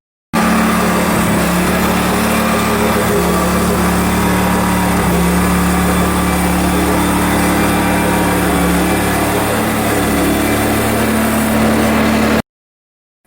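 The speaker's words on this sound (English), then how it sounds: "let's get these sawn and get these moved" Engine-driven saw cutting cherry lumber into live-edge shelf boards outdoors: a loud, continuous droning motor with a steady hum and slight wavering load, no talk.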